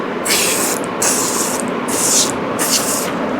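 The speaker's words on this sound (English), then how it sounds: "You have to shake it well and then open it and then just spray it out." Four bursts of loud hissing spray from a can of foam cleaner used on a helmet, each about half a second, with a steady hiss in between, close up.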